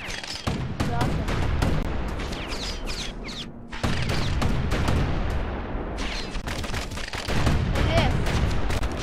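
Weapon fire crackles in dense, rapid bursts during play of the video game Bastion, with a short gap midway, mixed with game music and effects while a person talks over it.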